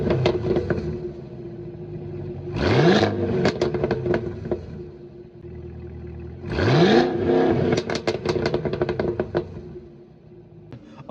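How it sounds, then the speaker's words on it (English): The supercharged V8 of a Cadillac CT5-V Blackwing revs twice in sharp blips, climbing to a rising roar, then settles back into a burbling, crackling idle between the bursts, heard close and loud. "Then you have the CT5V Blackwing, which gives you that supercharged V8,"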